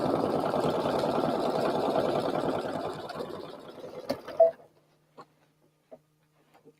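A Brother Aveneer sewing machine stitching through quilt batting, a steady close mechanical whir for about four seconds that winds down, followed by a few isolated small clicks in near silence.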